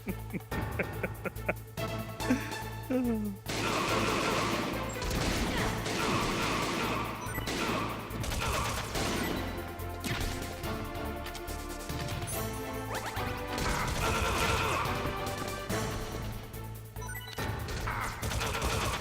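Rapid gunfire and crashing impacts from the video game Metal Gear Solid, loud and continuous over a droning music bed, with bursts of shots layered through the whole stretch.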